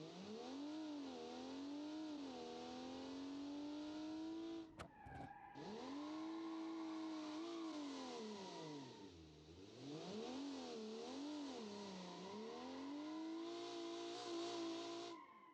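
Front-mounted, rear-wheel-drive inline-six car engine revving steadily up and down, loud and close, with a brief dip in the middle before the revs climb and fall again.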